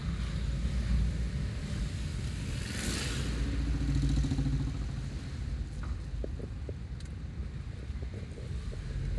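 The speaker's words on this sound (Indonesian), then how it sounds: "itu ada motor knalpot blong." A motorcycle with a broken, loud exhaust passes through a road junction, its rough roar heard from inside a moving car amid steady road and wind noise, swelling and fading over several seconds.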